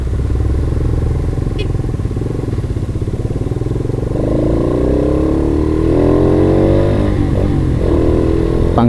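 A C100N motorcycle engine runs loud and close, idling with a rough, steady rumble before the revs climb smoothly through several rising surges, with no one speaking.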